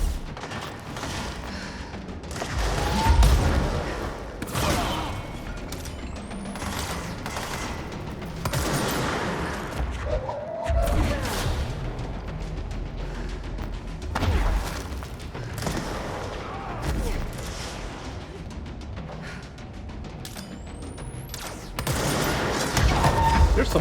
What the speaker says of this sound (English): There's someone behind me. And they're shooting me.